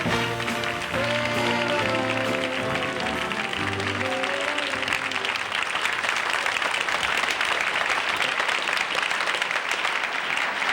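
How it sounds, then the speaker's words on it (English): An audience applauds Mayor John Lindsay in a steady, dense wash of clapping that swells early and fills the whole stretch, loud and close, with a few voices and a brief tonal sound mixed in at the start. "It must be funny to hear a whole audience applaud like that"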